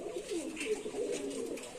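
Rajshahi Giribaj pigeons coo in a steady, low, rolling murmur, several birds overlapping close by with no voices.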